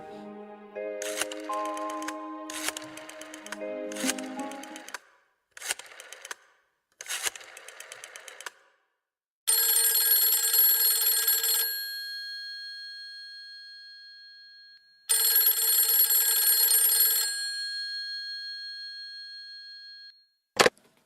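A telephone rings in a home scene: several short electronic chirping bursts, then two long sustained ringing tones separated by a pause, loud and clear with no talking, ending with a brief click.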